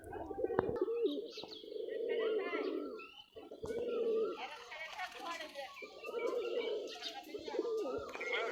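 Giribaj pigeons from Rajshahi coo in repeated low, throaty phrases with soft chirps mixed in, close by, while people talk in the background.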